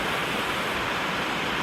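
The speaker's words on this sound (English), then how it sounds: "We're just walking up this series of small pools and waterfalls" Water rushing steadily over small waterfalls and through pools near San Cipriano, Colombia, a dense continuous broadband wash heard close up with no talking.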